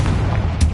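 A Confringo spell explosion in Hogwarts Legacy, a short deep booming burst with a sharper pop near the end, loud and close, alone.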